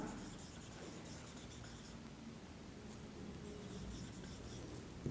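Marker or chalk strokes on a board while working an LCM problem in a Class 6 maths lesson, a steady faint scratching and rubbing texture running the full length with no voice over it.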